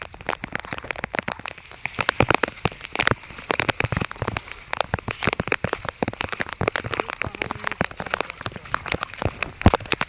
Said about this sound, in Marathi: पाऊस मजबूत आला पाऊस